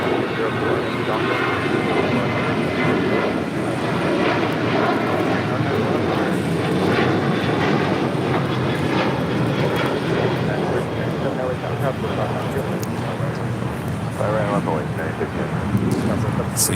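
A LATAM Airlines Boeing 777-300ER departs from the south side at LAX, a loud continuous jet engine roar with rumbling low end sustained throughout, close and unaccompanied by speech.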